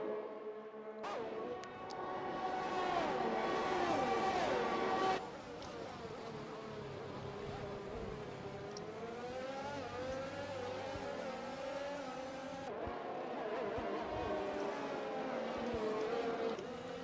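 F1 race cars in the F1 2021 game at the Italy round, high-pitched engines screaming close by with rising and falling pitch as gears shift, one car loud at first, then a steadier passing drone under faint commentary.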